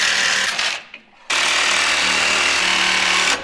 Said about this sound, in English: I don't know where my Sawzall could be.